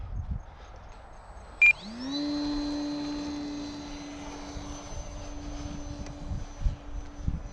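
A Carbon Cub S2 RC model airplane spools up its electric motor with a rising whine. The whine then holds a steady nearby drone while the plane flies, with faint outdoor background noise.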